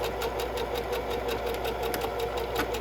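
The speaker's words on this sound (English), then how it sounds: "I lower my foot, back stitch a couple times, and bring it straight across." A sewing machine backstitching the binding on a purse, running in a fast, even mechanical whir with rapid ticking needle strokes, close and continuous throughout.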